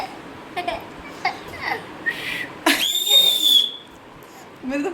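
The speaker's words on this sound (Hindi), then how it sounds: "और देखो राजा सीटी बजा रही हैं।" A child blows a whistle, producing a few short chirps followed by a louder sustained shrill tone lasting about a second, with faint voices and room noise in the background.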